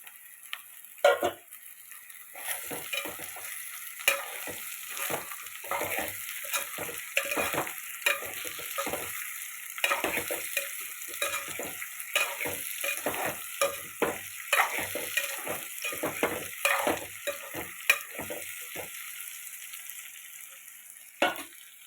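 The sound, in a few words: potatoes added to fried onions, frying and stirring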